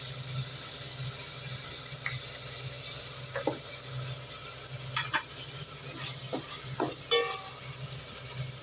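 Tomatoes with salt sautéing in a pan for a white lady fish curry, a soft continuous sizzle with an underlying low hum and scattered light spatula scrapes and taps, quiet and without speech.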